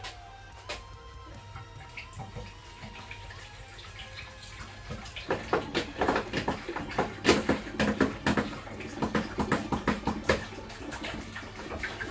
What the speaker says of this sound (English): What you want to do is just add the rest of your water.